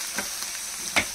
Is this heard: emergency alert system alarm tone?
no